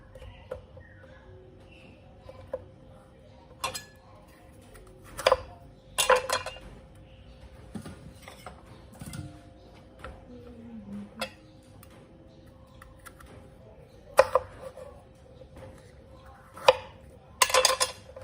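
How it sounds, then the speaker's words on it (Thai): Sparse knife chops through bitter melon on a cutting board, single sharp knocks spaced irregularly with quiet gaps between, plus faint clinks of utensils. "เราก็จะหั่น เป็นชิ้นเล็ก ๆ ตามที่เราอยากทานเลยค่ะ"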